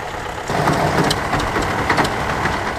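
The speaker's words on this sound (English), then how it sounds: "we'll take a look at some of the tractors as they move to and from the main ring" International tractors with indirect injection engines rumble past at a show's main ring parade, a steady, rough low engine drone that grows louder after the first half second and carries on without talk.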